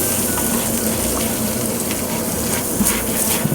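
Melted queso blanco dip with a tablespoon of flour stirred through it, a constant close bubbling sizzle with faint scraping from the spoon, no talking.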